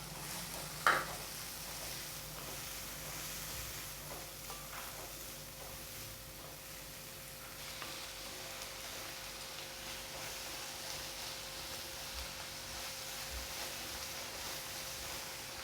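Chopped onions sauté in a pan for paneer butter masala, a soft continuous sizzle and hiss with an occasional faint stir or clink, quiet and even throughout with nobody speaking.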